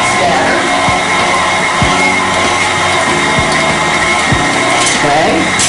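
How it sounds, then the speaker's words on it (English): An electric mixer churns cookie dough as flour is worked in, giving a steady loud motor whir with faint rhythmic thumps from the beaters, while a voice talks over it. "I'm going to mix that in there, and we'll want to make sure that gets to be well incorporated"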